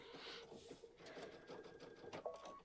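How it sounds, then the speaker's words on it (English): A sewing machine stitching at a quilting spa event, a soft steady mechanical whir running throughout, fairly quiet with faint background murmur. "And then we just start stitching."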